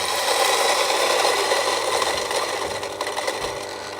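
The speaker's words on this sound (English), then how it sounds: "19 grams of beans. So I'm going to go for a 20 grind." A Breville BES920 espresso machine's grinder grinds 19 grams of coffee beans at a coarse setting, producing a continuous loud buzzing, rattling whir that runs steadily throughout and eases slightly toward the end.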